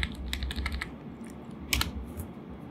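Fingers tap a password on a computer keyboard, a quick cluster of light clicks followed by a pause and a final sharp pair of keystrokes, close and clear with no talk.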